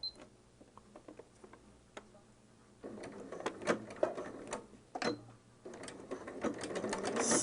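Sewing machine stitching Christmas holiday fabric, faint and intermittent with short bursts of rapid mechanical whirring and ticks separated by pauses, growing steadier toward the end.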